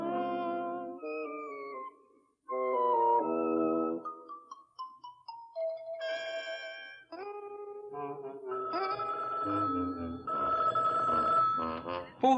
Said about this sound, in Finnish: Puhelin soi.